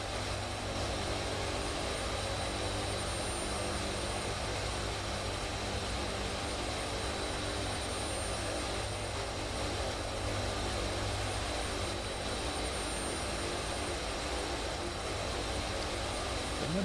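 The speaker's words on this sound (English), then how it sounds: "It can pretty much hang in there with this C-130 when it comes to short runways." A C-130 Hercules's engines in a flight simulator game give a steady, unbroken drone with a constant pitch and no pauses or voices.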